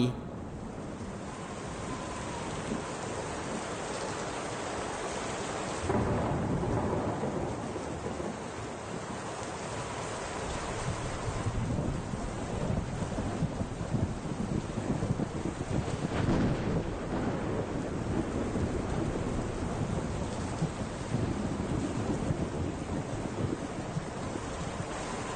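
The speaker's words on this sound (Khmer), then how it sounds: "មេឃបើកាលណាវាភ្លៀងហើយ" A thunderstorm with rain rumbles and roars in a wide, low, windy wash that swells and surges in waves, growing heavier after the first few seconds and staying loud to the end.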